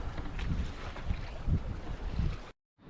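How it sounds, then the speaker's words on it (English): Paddling a boat up the Richard Burn River makes a rhythmic series of soft, low strokes and water swishes over wind noise, then cuts to near silence at the end. "We're paddling up the Richard Burn River"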